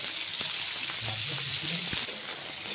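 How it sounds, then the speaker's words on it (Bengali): Whole spices frying in hot oil for a tilapia curry, a continuous bright sizzle with a few soft knocks, and faint talk underneath. "তো সব মশলাগুলোকে আমি এইভাবে গোটা গোটা ভেজে নেব।"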